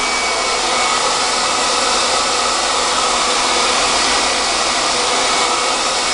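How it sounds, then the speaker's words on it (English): Hot air from a blow dryer roars steadily and loudly at close range while hair is styled with a round brush, a constant broadband rush with no pauses. "allow some heat from the blow dryer to hit them"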